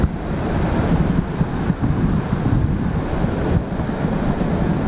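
Ocean waves wash steadily onto a beach in a loud, continuous roar, with some wind rumble and no talking.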